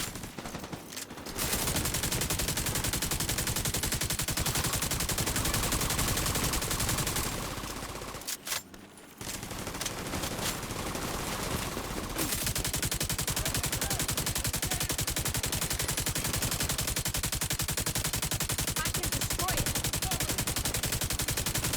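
Dense, continuous gunfire in the shooter game Tom Clancy's The Division 2, loud and close, keeps up almost without pause, with one brief lull partway through before the shooting resumes at full intensity.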